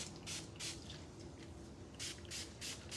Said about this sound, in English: So going again with my Blonde Boost spray.